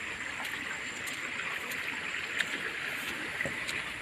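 Water flowing through a rice field, a soft, steady trickling stream heard close and alone, with a few small splashes.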